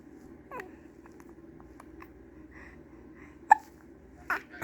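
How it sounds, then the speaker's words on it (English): An infant hiccups quietly in a calm room, with a few short, sharp hiccups spaced irregularly over several seconds. "you got the hiccups now, don't you?"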